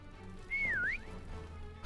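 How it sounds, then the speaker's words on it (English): A single rising-and-falling whistled tune from a player during a Prop Hunt video game match, clear and fairly loud against faint background hum, lasting about half a second. "Let me just whistle for you again."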